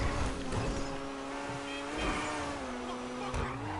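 A Koenigsegg supercar in a Rockstar driving game hums with a sustained engine drone, holding pitch with slight rises as it revs.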